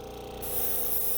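An airbrush sprays thinned black paint in a continuous close hiss, growing brighter and louder partway through as the flow picks up.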